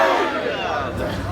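A large mourning-gathering crowd of a Muharram Majlis-e-Aza answers in unison with a loud, brief chant of Nara-e-Haidar, a dense roar of many voices fading slightly at the end.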